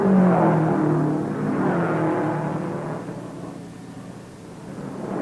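Vintage 1950 Indianapolis 500 race cars roar past in a broad, rushing engine drone that is loud at first, then eases and swells again as more cars whiz by on the oval.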